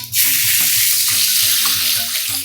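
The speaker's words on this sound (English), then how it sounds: "Adding oil. Mustard seeds and fennel seeds and onions." Mustard seeds, fennel seeds and onions frying in hot oil, a close bright sizzle that starts suddenly and stays loud, with soft low stirring knocks underneath.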